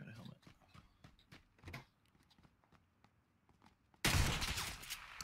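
PUBG gunfire comes as faint scattered shots in a quiet stretch, then a sudden loud burst of gunfire near the end.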